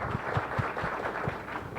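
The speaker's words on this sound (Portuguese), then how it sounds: "Uma salva de palmas, muito bom." An audience applauds at a talk on object-oriented software design: a soft, fairly faint patter of many hands clapping in a rapid, uneven rhythm for about two seconds.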